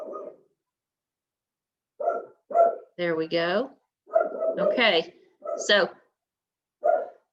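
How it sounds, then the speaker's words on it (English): A dog barks in short separate bursts, some single and some doubled, with a person speaking briefly between them in a quiet room. "Sorry about my dog barking."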